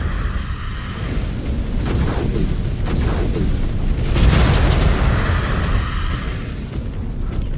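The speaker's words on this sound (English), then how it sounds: "Incoming missile." Missile explosions in the mech combat game Mechwarrior 5: Clans boom and rumble in a loud, dense barrage with sharp bursts layered over a continuous roar.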